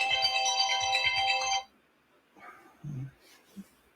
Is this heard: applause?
no